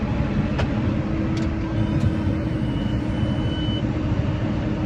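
Tractor engine throttling up while baling hay on a steep hill, a loud, steady low-pitched droning rumble held close and unbroken, with a few faint clicks over it.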